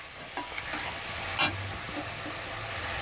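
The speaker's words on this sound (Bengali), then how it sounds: "আর খুন্তি দিয়ে আমি এইভাবে নেড়ে দেবো ভালো করে।" A spatula stirs khesari greens frying in a pan over the stove, with a few quick scraping strokes and a brief louder clatter over a steady close sizzle and hiss.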